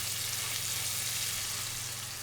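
Steak cooks in a hot pan with a steady, close sizzle, a bright crackling hiss that holds constant throughout with no talking.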